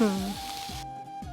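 Ingredients for a broccoli and chickpea bowl sizzle steadily in a pan, a continuous broadband frying hiss with a brief voice at the start before the sizzle carries on alone.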